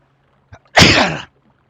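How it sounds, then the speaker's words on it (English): A single loud, close human sneeze with a short sharp intake of breath just before it, then quiet. "I'm already sneezing."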